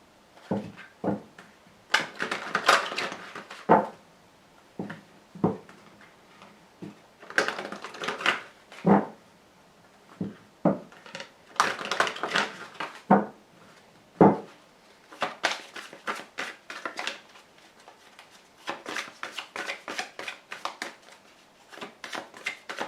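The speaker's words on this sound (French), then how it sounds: "avec le grand jeu de Mademoiselle Lenormand après avoir tiré 5 cartes" Lenormand cards being handled and drawn, a long run of close, soft papery snaps, slaps and shuffles in irregular bursts and pauses.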